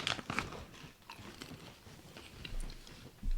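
Crunchy gourmet popcorn being bitten and chewed up close, a run of sharp crackling crunches at the start easing into softer, irregular chewing sounds, with no talking.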